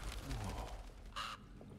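A crow-like bird caws once in the Alone in the Dark video game, a short harsh call rising over a dark ambient background mixed with low game sounds.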